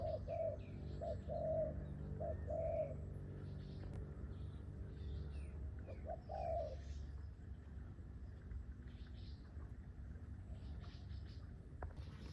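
Pigeons coo in soft repeated bursts, a few close calls over a low steady rumble, fading out partway through with no talking.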